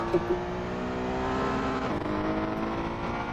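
A Ferrari race car engine in a sim racing game at the Nurburgring holds a steady high drone, dipping briefly mid-way before carrying on, heard alone without talk.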